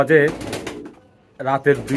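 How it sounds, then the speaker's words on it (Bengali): A Spanish pouter pigeon coos at night with its throat puffed, giving two close, resonant bursts of cooing separated by a brief pause. "কবুতরকে যেভাবে ডাকে ওই রকম করে ডাকতেছে, গলা ফোলাই ডাকতেছে"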